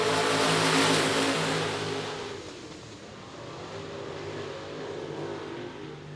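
Limited modified race cars in a heat race on a South Texas night at I-37 Speedway, a loud pack roaring near, then fading slightly into a steady distant engine drone.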